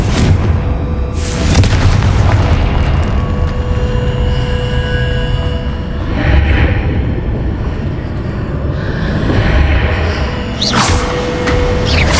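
A Confringo fire spell from the game Hogwarts Legacy bursts in loud booming blasts, the heavy rumbling roar swelling and fading over several seconds with sharp bright flares near the end.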